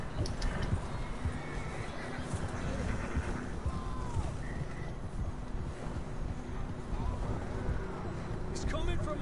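Horses being ridden in Red Dead Redemption II, with neighs and whinnies rising over steady hoof clatter and wind, while voices talk throughout.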